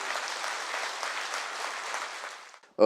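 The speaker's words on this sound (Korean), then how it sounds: "우리 격려의 박수 한번 부탁드리겠습니다" A large audience gives sustained applause of encouragement at a business event, even and moderately loud before it fades out abruptly near the end.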